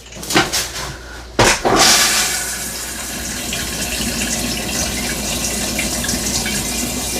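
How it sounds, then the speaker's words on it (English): A porcelain foot-flush RV toilet flushes with a few knocks and clunks at the start, then a steady loud rush of water that runs on close by. "Time to clear out the toilet."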